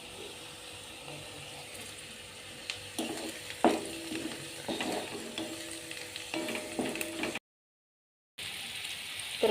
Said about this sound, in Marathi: मीठच टाकते त्याशिवाय कांदा भाजायचाच नाही पटकन